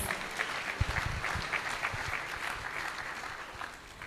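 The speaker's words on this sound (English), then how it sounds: "Let's give Maharaj another round of applause." Audience applause for Bhakti Caitanya Swami at a Sunday Love Feast, a sustained wash of many hands clapping in a room, steady and fairly even, tapering slightly toward the end.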